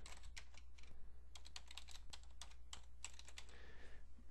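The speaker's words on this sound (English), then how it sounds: "I'm just going to type that in here," Rapid, uneven keystrokes on a computer keyboard as a username and password are entered, close and clear over a low steady hum, with no voices.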